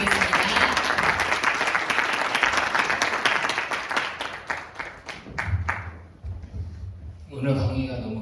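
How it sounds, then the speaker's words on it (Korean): Applause from a lecture audience at a university careers talk, fairly loud and dense at first, then thinning into scattered claps that fade out by the end. "큰 박수 부탁드리겠습니다."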